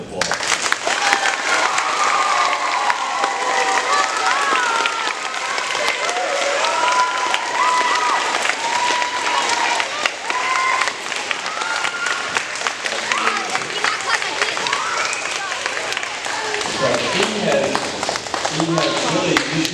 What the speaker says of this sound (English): I think we need to give Officer McGuire a major round of applause.